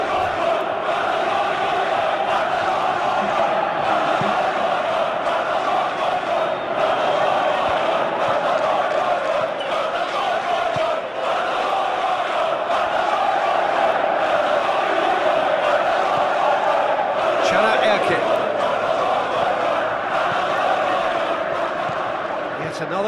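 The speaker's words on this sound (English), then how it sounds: "you can feel and hear how the crowd are reacting to all of this" A football stadium crowd roars and murmurs continuously during a Besiktas match, a loud sustained wash of voices with a swelling reaction late on, under a commentator's talk.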